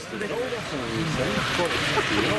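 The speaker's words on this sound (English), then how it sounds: "will give up these Westland Seaking HU-5 SAR helicopters" A Royal Navy Westland Sea King HU5 search-and-rescue helicopter drones steadily nearby at an air display, its rotor and engine hum rising and falling slightly throughout.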